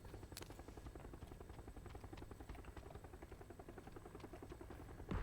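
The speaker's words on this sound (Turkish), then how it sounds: "Helicopter is here." A helicopter in the game PUBG whirs with a steady rapid rotor chop, fairly faint and continuous throughout, with no talk over it.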